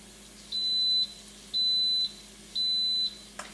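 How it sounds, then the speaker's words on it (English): An Instant Pot pressure cooker set to sauté gives three evenly spaced, loud, steady electronic beeps, each about half a second long, over a quiet kitchen background. "once you've heard the beeping"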